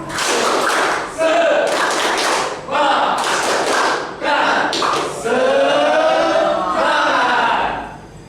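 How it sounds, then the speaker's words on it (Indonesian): A class of children does a rhythmic spirit clap in a classroom, loud bursts of group clapping in a patterned beat with short pauses between, voices joining in near the end. "tepuk semangat."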